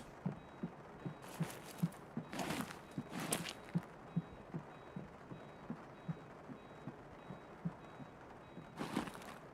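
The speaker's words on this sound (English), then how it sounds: "Someone's to my left. I heard the footstep." Footsteps in a first-person shooter: a steady, soft, evenly paced series of thuds running throughout, fairly faint and distant, with a few brief louder bursts of noise over them.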